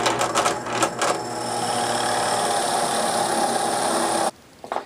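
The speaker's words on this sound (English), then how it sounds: "I'll drop down to a 7/8 and go in about a 1/2 inch." A drill boring a 7/8 inch hole into wood, running as a loud, steady, close motor drone for about four seconds before cutting off abruptly.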